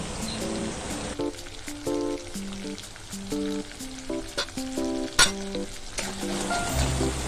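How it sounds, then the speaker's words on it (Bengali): Spice paste with salt and turmeric frying in oil in a pan, a steady close sizzle with scraping and stirring over low background music. "পরিমাণ মতো নুন ও 1/2 চামচ হলুদ গুঁড়ো দিয়ে ভালো করে মশলাটা কষিয়ে নেব।"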